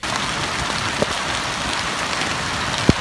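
Hail mixed with rain falls steadily in the highlands above Erdemli at Cacık, a dense, continuous hiss of drops on surfaces with a couple of sharp, isolated impacts standing out.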